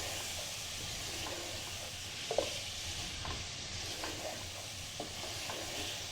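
Dhaba-style chicken keema with tomatoes sizzles steadily in a pan over low-medium heat, a constant soft frying hiss broken by occasional light stirring taps.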